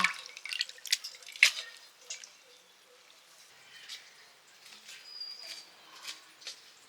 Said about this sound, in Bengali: এবার আমি পাতাটা ভালো করে ধুয়ে নিচ্ছি